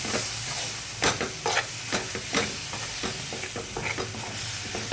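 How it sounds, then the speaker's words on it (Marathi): Green chickpeas sauté in a salted masala in a pan, a continuous sizzle broken by repeated scraping stir strokes of a spoon against the pan, close and fairly loud, with no talking. "ते देखील छान परतून घ्यायचे."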